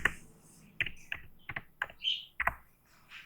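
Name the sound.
typing on a computer keyboard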